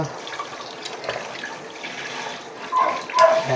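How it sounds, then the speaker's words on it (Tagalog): Running tap water rinses gutted fish with salt, a steady close splash and trickle that swells louder toward the end, with no speech. "Ngayon, hugasan natin sila ng may asin."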